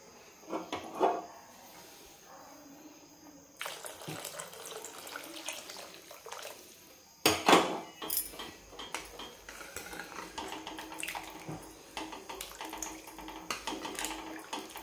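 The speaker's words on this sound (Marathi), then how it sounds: "गरम पाणी आणखी आपण टाकायचं आहे" Hot water is poured into a drumstick curry in a home kitchen, splashing and running amid clinks and clatter of pots, utensils and a faucet, with louder bursts partway through and no talk.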